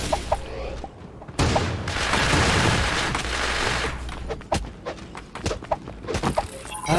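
Gunfire in the video game Creative Destruction crackles in dense bursts, with a long sustained barrage and then sharp scattered shots, loud and near.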